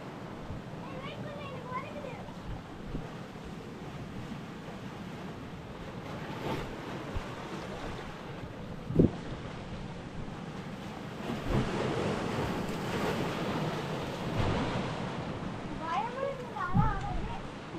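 Ocean waves wash steadily onto a hidden beach at Cuddalore with a constant rushing roar and wind buffeting the microphone, while people talk and call out over the surf.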